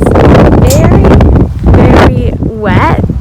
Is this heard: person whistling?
no